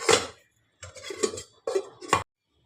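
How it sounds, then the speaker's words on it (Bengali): A lid goes onto a cooking pot in a home kitchen where snakehead fish is being steamed with green chillies, giving three short, close metallic clatters and clinks spaced about a second apart, with silence between. "আমি এবারে ঢাকা দিয়ে দিলাম।"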